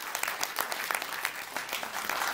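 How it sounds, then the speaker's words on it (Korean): A crowd applauds with dense, steady clapping that fills the room for a couple of seconds, after a professor's talk at an anti-nuclear-phase-out petition launch ceremony. "다시 한번 큰 박수 부탁드리겠습니다"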